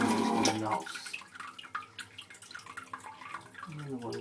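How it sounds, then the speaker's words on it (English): Water trickling steadily into an exterior sump pit beside a pump with check valves and hose, a continuous close splashing flow with faint dripping accents, no talk. "And the water just keeps trickling in."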